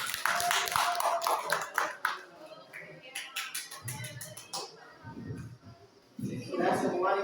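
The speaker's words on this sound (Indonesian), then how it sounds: "Tepuk tangan dulu" Classroom applause from students at the end of a group presentation, several seconds of scattered hand clapping that swells, thins out, then rises again, with voices chattering over it.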